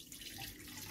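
Warm water pours from a drinking glass in a home kitchen while making a cake topping, a short, soft splashing trickle heard close and fairly quiet.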